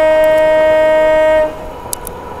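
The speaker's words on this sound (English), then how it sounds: "Just giving them a wee whistle to let the passengers know that the train is not stopping here." A train horn blares loud and close as a passenger train runs through Helensburgh Central station without stopping, holding a steady tone for about a second and a half before cutting off to the rumble of the moving train.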